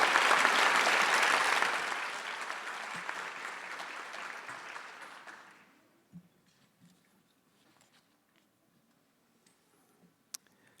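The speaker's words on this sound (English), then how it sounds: "please join me in applauding" An audience at a graduation ceremony claps loudly and densely, then the applause thins out and fades to near silence after about six seconds, leaving a few scattered small ticks.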